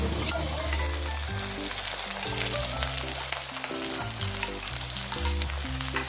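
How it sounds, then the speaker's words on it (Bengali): Ginger-garlic paste and spices frying in a pan over fried onions, a steady close sizzle with light stirring clicks throughout while music plays underneath, no talk. "মশলাগুলো ভালো করে ভেজে নেব"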